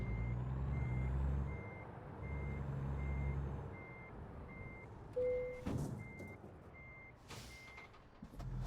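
Truck backing up to hook a trailer in American Truck Simulator: steady evenly spaced reversing beeps over a rumbling diesel idle, with bursts of air brake hiss near the end.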